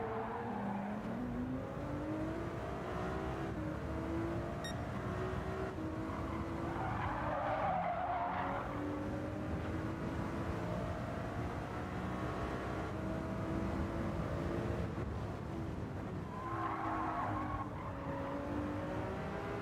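Ferrari race car launching off the line in Gran Turismo 7, a steady engine drone that rises in pitch as it accelerates, with tyre squeal breaking out twice, running continuously without talk.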